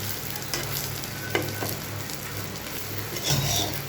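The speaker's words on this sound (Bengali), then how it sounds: "দেখুন কি সুন্দর হয়েছে ডিম ভাজাটা।" Egg frying in a pan for breakfast gives a continuous close sizzle, with a few soft scraping and stirring taps over the crackle.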